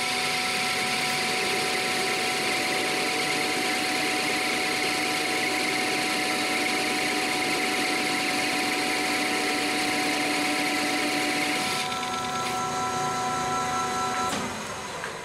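A lathe turns CrMo 4140 steel with a positive rake cutter, producing a continuous loud machine drone with high tonal whine, then shifting and fading slightly near the end as the cut finishes.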